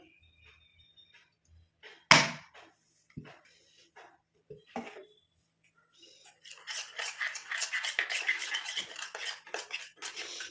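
A spoon scrapes and stirs herbal powder into coconut oil in a bowl. A few scattered clinks and taps come first, then a continuous, gritty mixing sound builds up close.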